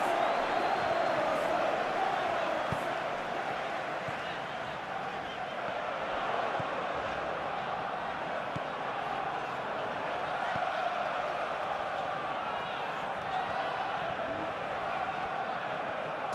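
Stadium crowd noise from the football video game PES 2021 in a Master League match, a steady, distant roar of cheering and chanting that holds at an even level without letup.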